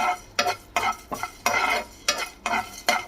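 Whole cinnamon, cloves, fennel seeds, peppercorns and cardamom are stirred and fried in a pan for a Dindigul and Chettinad chicken biryani spice mix. Six or seven sharp scraping stirs come at a regular pace over a low sizzle, close and clear with no talking.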